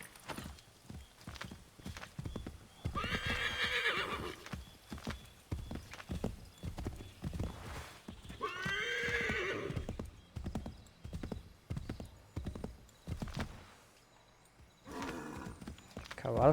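Hooves clip-clop in a steady galloping rhythm with loud, whinnying neighs breaking in twice, from a horse ridden in the PC version of Assassin's Creed III; a voice talks faintly beneath.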